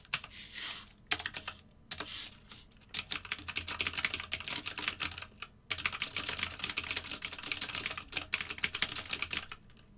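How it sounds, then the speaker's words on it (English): Fast, irregular typing on a computer keyboard, close and fairly quiet, with bursts of rapid clicking broken by short pauses. "Sorry, I'm doing a lot of typing today."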